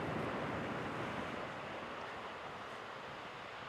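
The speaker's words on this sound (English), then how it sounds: "These are impressive waves." Ocean surf rolls in at Reynisfjara beach in Iceland, a broad continuous roar of waves mixed with wind, steady and fairly loud, with no voices.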